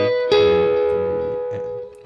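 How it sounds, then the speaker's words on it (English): A single sustained electric guitar lead note from the overdub part of a song rings with effects and slight distortion, slowly fading before a new pick attack at the end. "And that's it for the overdub lead, which will sound like this."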